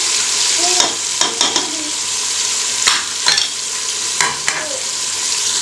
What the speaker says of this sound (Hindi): और इनको हम अच्छी तरह से भूनेंगे।